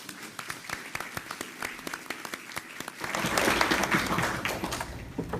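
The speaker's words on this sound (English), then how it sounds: "May I have a round of applause for our students this evening?" Scattered claps at first, then a meeting room full of people breaks into steady applause for students that gradually thins out.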